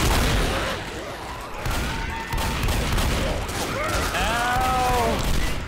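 Gunfire against zombies in Left 4 Dead, with continuous close shooting and rattling bursts under a dense game mix, while voices talk and shout over it.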